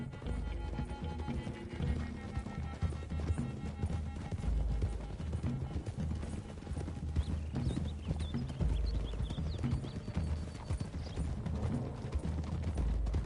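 Several horses' hooves clip-clopping on a trail in Red Dead Redemption 2, a dense, continuous pounding rhythm of riders on the move, loud and steady throughout with low rumbling underneath.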